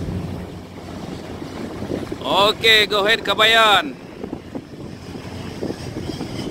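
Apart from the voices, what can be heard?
strong wind at sea during dredger tow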